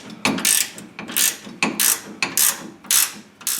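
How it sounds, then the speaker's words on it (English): A hand ratchet tightens a bolt on a trailer hitch in a series of loud, close clicking strokes, each burst of pawl clicks repeating at a steady back-and-forth rhythm with no talk. "Now I'll put the second bolt in and lightly tighten it down."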